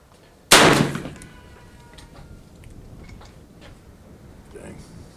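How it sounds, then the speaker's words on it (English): A single sharp, loud .45 Colt gunshot fired without a suppressor, cracking out near at once and then ringing away into a short echo, with faint background noise after it. "45 Colt, unsuppressed."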